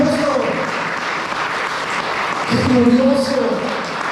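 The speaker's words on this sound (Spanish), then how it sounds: "¿Le puedo dar una ofrenda de aplauso al Señor Jesucristo por lo que hace?" A church congregation applauds in sustained, dense clapping throughout, while a preacher's voice rises over it with exclamations.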